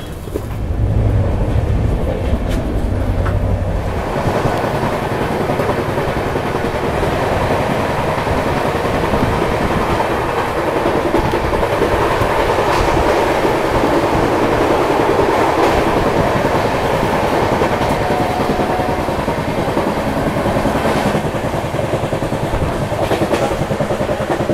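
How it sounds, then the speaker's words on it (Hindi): Indian Railways Duronto express on the Mumbai to Howrah route, heard from inside a first AC coach while running at speed, with a loud continuous rumble and rattling wheel noise throughout. "यहाँ से अब वापस से 130 की रफ्तार पकड़ेगी ट्रेन"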